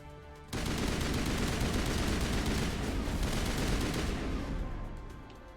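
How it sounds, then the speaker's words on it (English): Sustained automatic assault rifle fire from the Mass Effect video game, a dense continuous burst that starts abruptly and holds loud and steady for about five seconds before tapering slightly. "this assault rifle just absolutely tears them to shreds"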